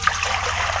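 Fenugreek greens being washed in water give a brief, close trickling and sloshing sound, soft and continuous without any voices.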